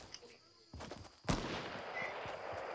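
Gunfire in the Fortnite video game: a couple of sharp reports, one loud crack near the middle followed by sustained noisy game ambience, fairly close, with no talk.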